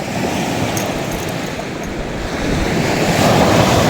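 Sea waves washing steadily onto the shore, a loud continuous broadband surf wash that swells slightly louder toward the end, mixed with wind noise on the microphone and no voices.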